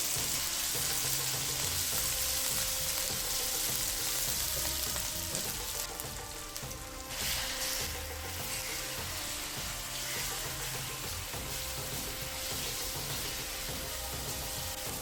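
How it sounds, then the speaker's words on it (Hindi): Chicken pieces frying in a pan with garlic and ginger, a steady dense sizzle and crackle that runs continuously, with occasional stirring scrapes and no talking. "जब ये भी थोड़ा सा फ्राई हो जाए तो चिकन डाल दें"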